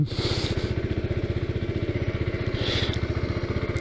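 A 2019 Kawasaki Z125 motorcycle engine runs at a steady idle with a fast, even putter that pulses evenly and stays close and clear, with brief hissy bursts over it and no talking.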